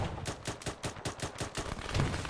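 Rapid bursts of automatic gunfire in the Arma 3 military shooter, about ten sharp shots in a quick uneven rhythm during an urban firefight, loud and close with no talk over them.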